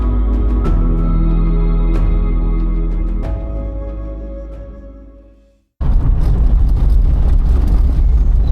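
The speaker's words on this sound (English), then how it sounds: "This vibration makes driving even more tiring than already is." Car driving on a rough, vibrating road in freezing Lapland, a steady close engine and road rumble with rattles that fades to a brief silence, then returns as a louder, noisier roar.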